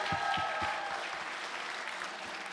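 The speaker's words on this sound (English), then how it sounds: "Let's give them a round of applause." An audience at a sangeet wedding celebration applauds the evening's MCs with steady, moderately distant clapping, a few heavier thumps early on, sustained for under three seconds.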